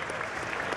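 A standing ovation at the State of the Union address in the US Congress: dense, steady clapping from a large crowd in a big chamber, unbroken across the short moment.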